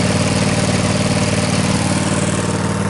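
A Cub Cadet RZT50 zero turn mower's twin-cylinder engine idles after a spring cold start following six months of storage, a loud, steady, slightly rough throb with a constant exhaust rumble and no talking.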